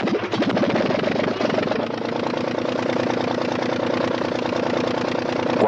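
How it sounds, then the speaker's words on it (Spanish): An Anzani aircraft engine fitted to a Blériot monoplane runs steadily at a close, loud idle, a continuous rough mechanical drone with a fast, even beat that holds throughout. "El motor marcha a pedir de boca"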